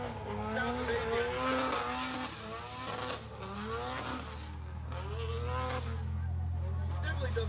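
Former pro drift car driven by Kelsey Rawlings at a motorsport festival, its engine revving loudly and steadily with rising and falling pitch sweeps and tire noise, under commentator talk.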